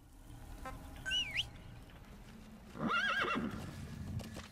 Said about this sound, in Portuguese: Cadê meu cavalo?